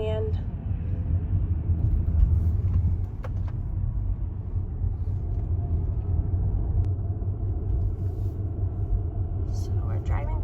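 A car driving through the Lake Windcrest neighbourhood in Katy, Texas, heard from inside the cabin as a steady low engine and road rumble throughout, with people talking over it.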